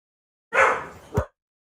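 A dog barks once or twice indoors, one sharp loud bark followed by a short second yelp, close to the microphone, with silence before and after.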